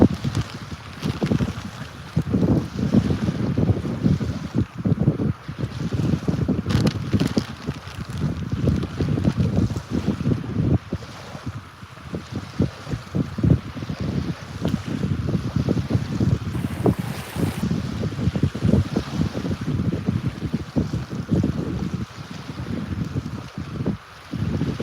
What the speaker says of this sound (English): watching the waves beat against the shore